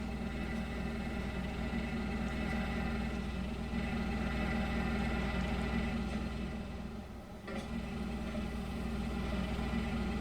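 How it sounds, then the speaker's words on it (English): A car engine left idling in the game The Vanishing of Ethan Carter, a steady low rumble and hum running throughout, dipping briefly near the end before resuming. "Shut that off so we don't leave the engine running."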